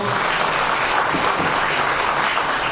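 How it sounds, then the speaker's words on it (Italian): Applause at a company product presentation in Dubai, steady dense clapping from an audience that fills the whole moment without a break. "Applauso."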